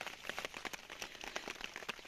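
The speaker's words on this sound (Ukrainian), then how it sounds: "Я маю надію, що вам чути дощ." Rain falls steadily outdoors, a dense, even hiss of drops with soft patters scattered through it, moderately close and with no voices.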